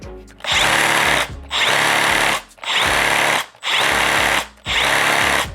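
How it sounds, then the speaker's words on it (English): Makita reciprocating saw run in five separate bursts of about a second each, a loud close buzzing motor drone with short silent gaps between triggers. "Makita feels tighter and more well balanced and more well controlled, and there are less like clunking noise from the saw"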